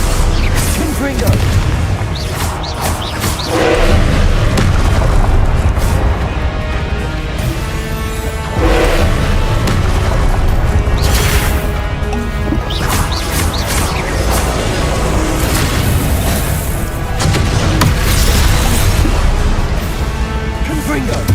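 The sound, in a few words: Confringo fire-blast spell explosions from the video game Hogwarts Legacy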